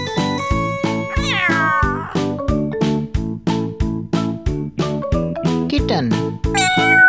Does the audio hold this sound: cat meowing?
yes